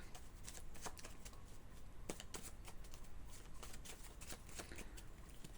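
A deck of guidance cards is shuffled by hand close up, a quiet continuous riffle of crisp flicks and slaps with no talk over it.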